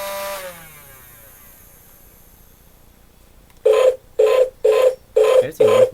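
A wind-up toy robot's flywheel mechanism runs, first a fading whir after a short clatter, then five loud evenly spaced ratcheting bursts of mechanical buzzing close by, each about half a second long.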